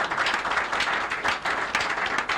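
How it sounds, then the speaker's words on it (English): Listeners on a Nigerian talk programme give applause for a former governor, a steady crowd of clapping hands, moderately loud and continuous without speech. "do you think he deserves some applause? Please, let's give it to him."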